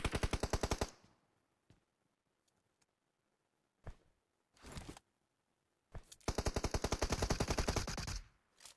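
Automatic gunfire from the video game PUBG Mobile comes in rapid bursts: a long burst of fast shots, a few short isolated pops, then another extended sustained burst, all sharp and loud with silence between, and no talking.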